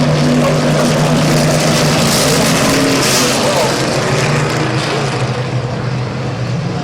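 Race cars roar around Midvale Speedway as a dense, loud engine drone with steady pitch shifts, filling the track continuously and slowly fading toward the end.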